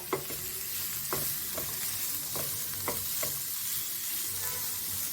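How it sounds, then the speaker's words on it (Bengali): Cabbage fries lightly in a pan before milk is added for payesh, giving a steady, fairly soft sizzle with a few faint knocks of stirring spaced through five seconds and no voices. "খুব বেশি ভাজতে হবে না, অল্প কিছু, লাল হবে না, সাদাই থাকবে।"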